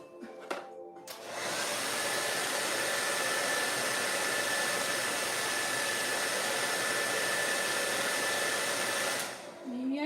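A hair dryer drying paint switches on after a couple of light knocks and blows with a steady, loud whooshing whine and a faint high tone before clicking off near the end.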